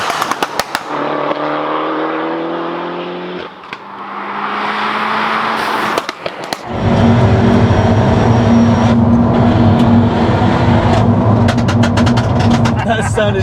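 A stage 2 tuned Peugeot 308 GTI engine revs loudly and close, with rising tones that climb, fall back and then surge into a sustained high-revving roar.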